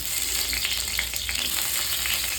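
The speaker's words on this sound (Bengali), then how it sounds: "তেল গরম হয়ে গেছে, তেলে এবার আমি আলুটা ছেড়ে দিই ফাট করে।" Sliced potatoes fry in hot oil in a home kitchen pan, a steady close sizzle with a crackle of small pops throughout and no voices.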